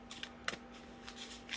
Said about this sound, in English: I love the sound of the shuffling.